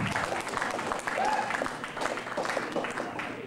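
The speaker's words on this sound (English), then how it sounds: "give him a big round of applause" Crowd applause at a university union billiards event honouring a pool player, dense clapping with cheers and voices mixed in, fairly distant and steady throughout.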